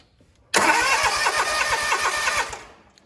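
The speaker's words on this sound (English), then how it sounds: "It's probably going to turn the engine over" A lawn tractor engine cranks over, then catches with a loud, close, steady rumble for about two seconds before tapering off, with no talking.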